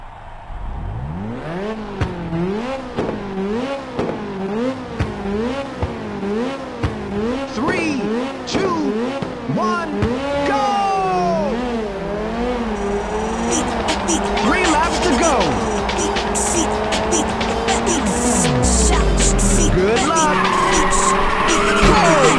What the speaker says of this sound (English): Now start your engines and get ready.